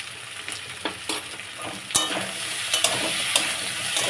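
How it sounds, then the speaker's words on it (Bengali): Potatoes and crab sizzle in hot oil with cumin, coriander and chili, a continuous close frying crackle broken by repeated stirring scrapes and clinks of the spatula. "ভালো করে ভেজে নিই।"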